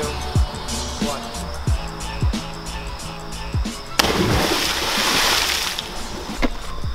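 A person leaps off a bridge into water near a waterfall, landing in a sudden loud splash that gives way to churning, rushing water after a run of rhythmic thumps.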